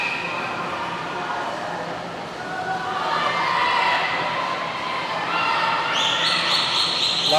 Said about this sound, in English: As you can hear, there's a lot of team cheering going on for each swimmer.